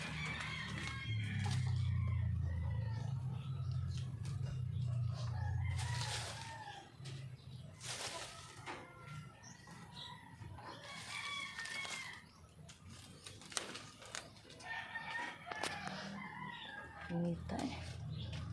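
Rooster crowing outdoors on a hot day, with repeated crows rising over a busy rural backdrop of other fowl clucking, low rumbling, and people talking nearby.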